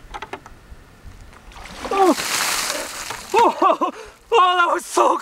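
A bucket of ice water pours over a person in an ALS Ice Bucket Challenge, making a loud splashing rush about two seconds in. Gasping, shrieking voices follow and break out again afterward.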